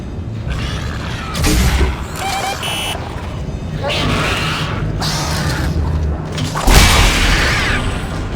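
A mine in Dead Space 2 fires off a shell, giving heavy booming thumps and whooshing bursts amid mechanical clanks and game ambience, loud and spread over several seconds.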